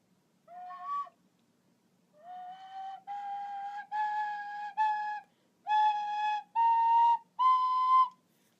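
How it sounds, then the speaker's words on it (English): A penny whistle played alone, a series of clear sustained notes stepping up in pitch with short pauses between phrases, close and bright in a quiet room. "teach us how to play this, which is a penny whistle"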